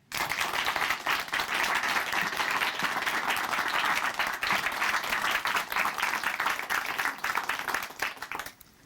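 Audience at a Korean church broadcast applauds to welcome a guest to the stage, a dense, sustained roar of many hands lasting several seconds before cutting off abruptly.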